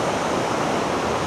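Burgess Falls in Tennessee roars in a steady, dense wash of rushing water, loud and unbroken, with no voices.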